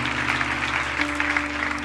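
A church congregation claps hands during a Bible sermon, a brief, dense burst of clapping over a sustained musical tone.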